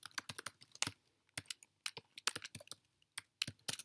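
Code being typed on a computer keyboard, quick irregular bursts of crisp key clicks with short pauses between, close and fairly quiet.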